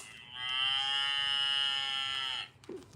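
Cow moo from a children's push-button sound book, a single long, buzzy electronic low that sustains for about two seconds before cutting off, with a small rustle after it.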